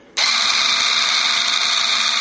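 A Drill Master 4.8-volt cordless screwdriver, a slow 180 RPM tool, starts abruptly and whirs steadily at close range, a loud even electric motor drone with no talking.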